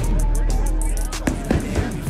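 Live fireworks going off at a summer birthday celebration, a series of sharp pops and crackling bursts over a steady background rumble, fairly close and loud, with crowd babble in the background.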